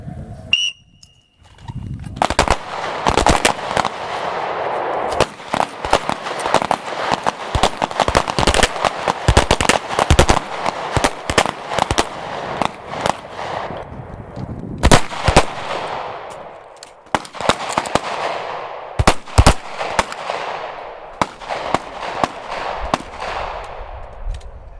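Pistols fire in rapid overlapping volleys during a group shooting drill on an outdoor range, sharp loud cracks in dense bursts separated by brief pauses, with several shooters firing at once.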